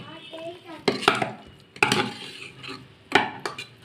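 Prawn biryani scooped from a cooking pot into a hot box, heard as three distinct clanking scrapes of a ladle against metal at steady intervals, close and fairly loud over a quiet kitchen background.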